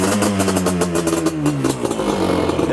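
A custom Yamaha Banshee ATV called Bonzilla, running nearly out of gas, revs loudly up close with a rough, buzzing engine note that rises and wavers through the short burst.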